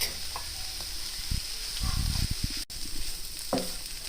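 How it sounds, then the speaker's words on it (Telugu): Ground raw coconut being stirred into a cabbage curry in a pan, soft scraping and mixing scrapes in short bursts over a faint steady sizzle, fairly quiet and close. "ఇప్పుడు పచ్చి కొబ్బరి గ్రైండ్ చేసుకున్నది కూడా వేసి మొత్తం కలిపి పెడదాం"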